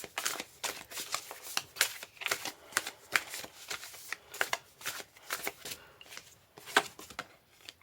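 Tarot cards being shuffled by hand, a quick uneven series of crisp papery riffles and slaps repeating for several seconds, close and fairly soft.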